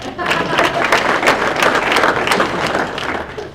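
A townhall audience claps for absent sales consultants in a dense, sustained burst of many hands, loud and close, fading slightly at the end.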